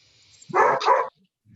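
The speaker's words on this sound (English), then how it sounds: "Sorry, the dog's barking." A dog barks once in a short double burst, fairly close and loud, during a small-town borough council general meeting, with quiet room tone before and after.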